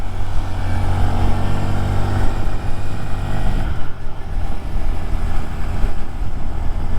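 A 2023 Honda Grom small motorcycle cruises along with a steady, loud engine drone and heavy wind buffeting on the microphone, the tone dipping briefly midway before settling back into a constant hum.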